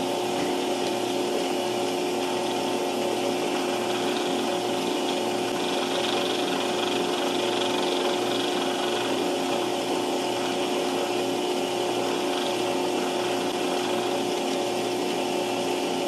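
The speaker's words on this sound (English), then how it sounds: "since this is such a small drill, I gotta back it out quite often to clear the flutes" Small drill boring into steel while making a scribe awl, a steady, fairly quiet mechanical whine and hum running unbroken throughout with no talking.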